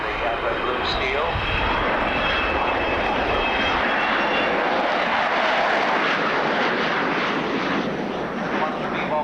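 Vulcan-era V-bomber heavy bomber passing over a 1989 RAF Scampton airshow, a loud broad roaring rumble that swells and holds throughout, with a commentator talking over it.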